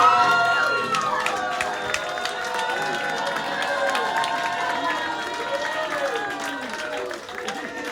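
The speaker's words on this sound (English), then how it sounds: "One more round of applause for the incomparable Sean Wetzel, ladies and gentlemen" Audience at a bad love poetry night applauding and cheering a poet, a dense, steady wash of clapping with whoops and voices that holds loud throughout and eases slightly at the end.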